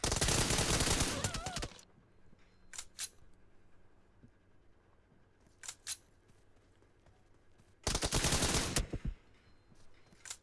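Video game shooter gunfire, two loud rapid bursts of automatic fire at the start and near the end, with a few single sharp shots scattered between, quiet background otherwise.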